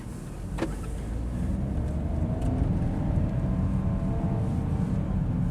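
A Smart car accelerating from inside the cabin, a steady engine drone building gradually in loudness, with a brief click near the start.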